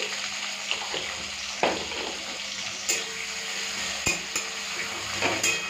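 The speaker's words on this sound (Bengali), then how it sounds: "প্রথমে মশলাটাকে ভালো করে ভেজে নিই যাতে ওদের কাঁচা গন্ধগুলো চলে যায়।" Onion paste, ginger-garlic paste and a little salt fry in a pan over cumin and bay leaves, giving a steady close sizzle broken by occasional scraping stirs, with no one talking.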